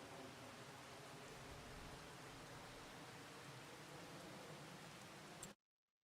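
Steady rain hisses evenly in the Farming Simulator 25 game, a dense continuous wash of falling water that cuts off abruptly near the end.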